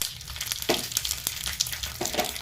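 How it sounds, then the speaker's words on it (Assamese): Mustard seeds splutter and pop in hot oil in a pan, a close, steady crackling sizzle dotted with sharp little bursts. "সৰিয়হ গুটি ফুটুৱাই ল'ব লাগে"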